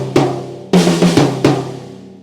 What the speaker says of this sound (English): you want to do a rhythm on the tom.